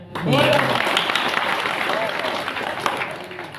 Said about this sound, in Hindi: नाम पे जोरदार ताली।